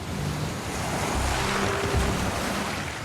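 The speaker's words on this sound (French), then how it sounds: "Des vagues de 21 mètres." Heavy storm surf roars continuously along the coast of western France during an exceptional gale, a dense steady wash of crashing waves mixed with wind buffeting, with no voices.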